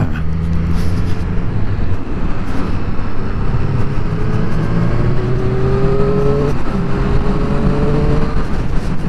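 Triumph Street Triple RS motorcycle engine accelerating nearby, its rising revs climbing steadily and loudly through the run with no talking over it.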